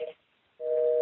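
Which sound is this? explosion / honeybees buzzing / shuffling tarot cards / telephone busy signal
telephone busy signal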